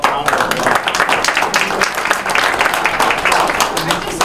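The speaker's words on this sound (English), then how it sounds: "So let's give them a round of applause." Town hall meeting audience applauding legislators, a steady dense wash of claps filling the room at close range, with voices mixed in under the clapping.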